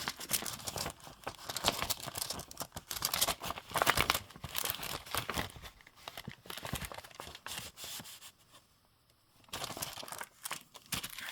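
A junk mail paper envelope being folded, with close, fairly soft crinkling and crisp rustling in uneven bursts and a short quiet pause near the end.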